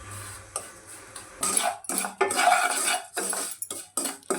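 Moong dal being roasted in a pan for kesari, stirred with a metal utensil that scrapes and clinks against the pan in close, irregular bursts.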